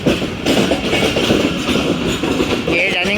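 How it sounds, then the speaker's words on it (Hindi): The Karachi Express, with its dining car and air-conditioned coaches, rolls past at a railway junction station, a loud, close, continuous rumble with rhythmic clickety-clack of wheels over rail joints. "ये डाइनिंग कार है, इसके पीछे एयर कंडीशन है। ये कराची एक्सप्रेस की निशानी है"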